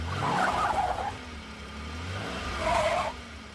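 A cartoon drag racer's car pulls in with two revving, tire-squealing swells, near and moderately loud, over a low engine rumble.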